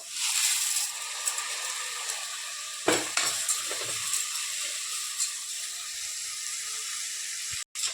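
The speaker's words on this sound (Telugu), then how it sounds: "ఇందులో నానబెట్టాం కదండి అర్ధగంట ముందు, ఈ పెసరపప్పును వేసుకుందాము." Soaked moong dal tipped into a hot pan with chilli powder and stirred for dhaba-style dal, a bright continuous sizzle with a few sharp spatula scrapes and clatters partway through.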